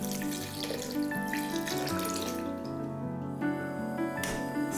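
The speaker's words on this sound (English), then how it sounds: "Now pour in enough water to cover the lemons." Tap water runs steadily into a pot over sliced lemons and sugar for candied lemon slices, a continuous close splashing fill with slight shifts in flow, no voices.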